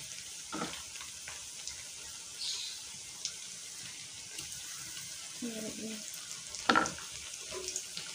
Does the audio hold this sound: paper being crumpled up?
no